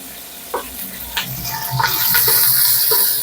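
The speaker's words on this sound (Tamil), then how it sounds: "வெங்காயத்தை நல்லா வதக்கிக்கிறணும்." Onions sautéing in ghee for chicken biryani give a steady hiss of sizzling that grows a little louder toward the end, with a few soft stirring knocks of the spoon in the pan.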